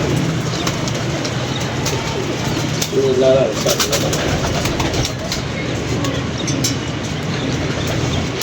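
Pigeons coo softly in the background while someone talks nearby in Hindi, with a steady outdoor hum underneath.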